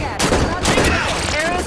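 Gunfire in Halo 5: Guardians during a battle near Meridian Station, a short loud burst of rapid, close shots layered with game effects.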